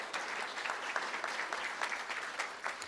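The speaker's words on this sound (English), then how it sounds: "Let's give her a round of applause." An audience at a school district board meeting claps steadily for a teacher, a continuous even wash of applause lasting throughout with faint voices underneath.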